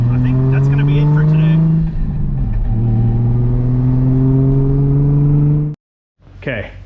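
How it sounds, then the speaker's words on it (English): A car engine hums steadily with rising and falling revs for several seconds, then cuts out briefly before a short burst of noise returns. "we're gonna finish out this test drive"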